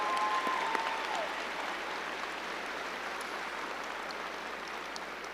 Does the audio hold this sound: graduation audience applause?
yes